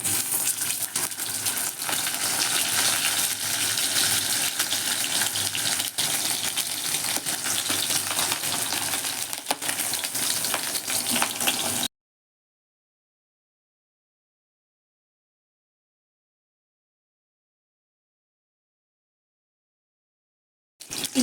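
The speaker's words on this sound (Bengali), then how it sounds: "ইলিশ মাছের লেজাটা ভাজা হতে হতে আমি দেখিয়ে দিই।" A salted, turmeric-coated hilsa fish tail fries in hot oil, giving a dense, steady sizzle and crackle close by for about twelve seconds before cutting to silence, with a brief return at the very end.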